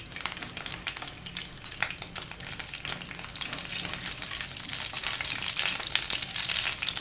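Nigella seeds crackle in oil left from frying fish, a dense, even sizzle close by that grows slightly louder and busier, with faint stirring ticks throughout.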